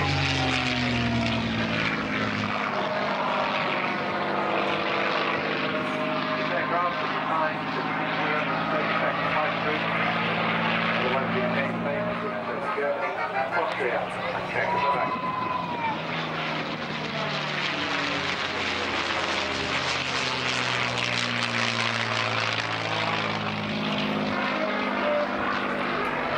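Propeller aircraft flying at the Southport Air Show 2014, a loud, continuous engine drone with slowly shifting pitch as it passes, with faint commentary speech beneath it.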